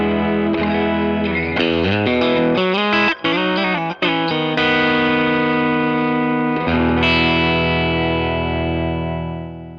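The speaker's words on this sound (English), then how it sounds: "So this is the Origin Effects Cali 76." An electric guitar played through an Origin Effects Cali 76 compressor pedal rings out with sustained, evenly compressed chords and a quick run of notes, then a long held chord that slowly fades, and no one speaks.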